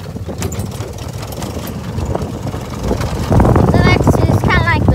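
Small go-kart engine running during a ride, a rough buzzing drone close by that swells louder partway through, with a person talking over it.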